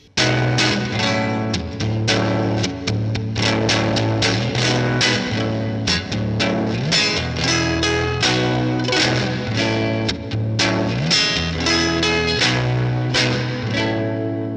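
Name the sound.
electric guitar with reverb crunched in the amp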